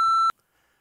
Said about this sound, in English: I have to beep it if I say